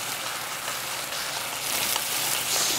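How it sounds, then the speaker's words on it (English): Balsamic vinegar hisses and sizzles in a hot brisket pot as burnt bits are scraped from the bottom, a loud continuous crackling fry without any talking. "we're gonna add that to the pot and scrape up all those little burn bits at the bottom with the balsamic vinegar"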